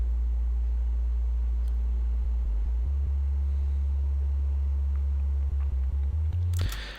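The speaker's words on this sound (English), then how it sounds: "That is literally just Ableton's operator playing a single sine wave." A deep, steady sub-bass sine tone from Ableton's Operator synthesizer hums continuously, shifting between a couple of low pitches, ending with a brief burst of noise.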